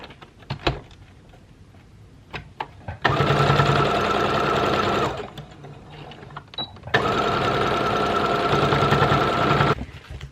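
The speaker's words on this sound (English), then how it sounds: "So we're gonna sew another line" A sewing machine stitches a line through tutu ribbons in two long, loud bursts of fast mechanical whirring, with quieter clicks and handling noises before and between the runs.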